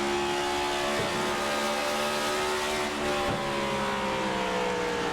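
Stock race cars in a Nashville Superspeedway racing video game, a steady loud engine drone that dips briefly twice, with no talk.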